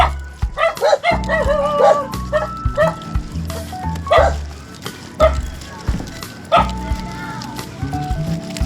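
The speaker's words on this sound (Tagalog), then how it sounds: "Daming aso." A pack of dogs barks in uneven bursts nearby in Navotas City, sharp yaps overlapping, with a person talking briefly among them.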